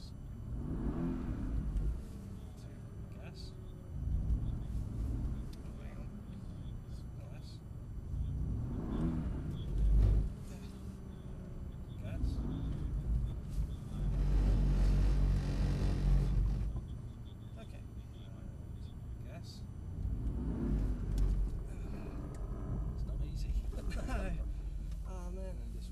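A Mercedes-Benz GTS accelerates repeatedly, its engine rumbling and swelling in several revving surges heard from inside the car. Voices talk intermittently over the engine.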